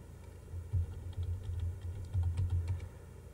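Quick bursts of keystrokes on a computer keyboard as a Linux terminal command is entered, close and fairly soft, with short pauses between runs of clicks and no talking.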